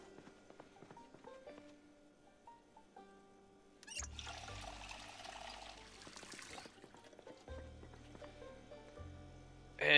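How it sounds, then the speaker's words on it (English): Filling up water in the video game Project Zomboid, a soft rushing pour that starts midway, swells for a few seconds and stops, then returns briefly at the end, faint in a quiet scene. "Maybe fill up my water."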